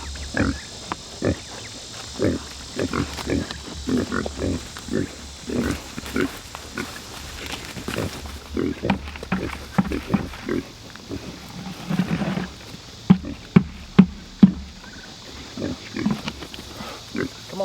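Pigs in a backyard pen, including a big sow, a boar and younger pigs, giving repeated short grunts and snorts close by, irregular in rhythm, with a few louder squeals toward the end.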